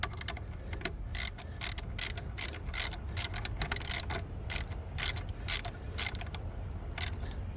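A ratchet clicks in quick repeated bursts while tightening the alternator wire connection on a 2001 Ford F-250 Powerstroke diesel, close and crisp with no talking.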